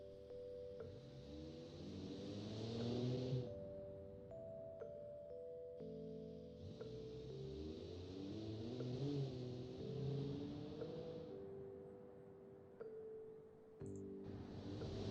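Engine of a car driven in the Automation car-building game, revving up and down through rising and falling gear sweeps, soft but clear, with chimes and shift changes between pulls.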